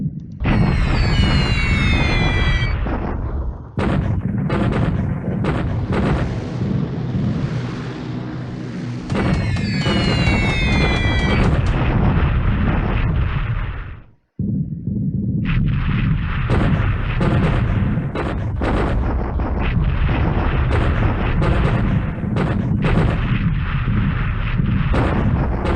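Explosions from a daylight bombing mission in the War in the Pacific strategy game: loud, dense rumbling booms and artillery-like blasts roll on continuously, broken by one brief silence midway, with whistling tones in places.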